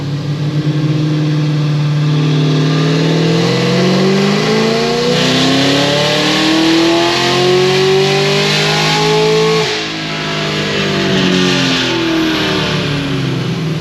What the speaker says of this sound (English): I'm just gonna make a quick dyno pull before I do trans.